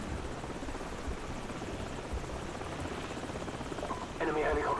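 A helicopter's rotor drone in the video game Call of Duty 4 thrums steadily throughout, a dense low chopping hum with a brighter burst near the end.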